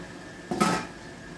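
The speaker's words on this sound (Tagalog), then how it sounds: "Kapag kumukulo na, ilagay na natin yung ating steam" One brief metallic clunk of a steamer pot of leche flan being set on the stove, close and moderately loud, against a quiet background hum.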